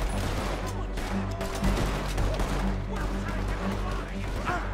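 Pistol shots in Red Dead Redemption 2, several sharp reports fired in quick succession over a low droning game soundtrack, with reverberant tails and dense background noise.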